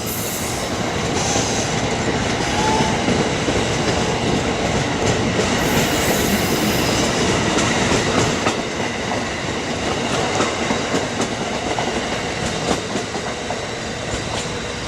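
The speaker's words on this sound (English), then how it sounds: "Long train, about 8 coaches." An Amtrak passenger train of about eight coaches rolls past on a secondary line, with continuous loud rumbling, clickety-clack of wheels over rail joints and occasional squeals throughout.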